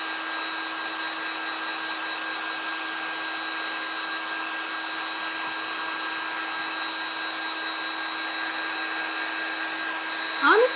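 A heat tool blows a steady, even whoosh with a low hum while drying a freshly painted DIY bag. It runs close and unbroken for about ten seconds, with a brief clatter just at the end.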